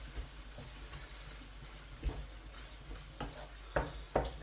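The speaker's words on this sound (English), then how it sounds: "Should give this a stir." A chicken stir-fry sizzles softly in a pan while a utensil stirs it, giving faint scraping clicks and a few louder knocks near the end over a low steady hiss.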